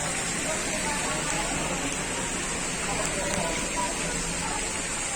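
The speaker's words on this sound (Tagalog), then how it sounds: "Umuulan." Steady rain falls outside a hotel in San Jose Del Monte, Bulacan, an even, dense hiss of drops on surfaces that holds at a moderate level throughout with no voices.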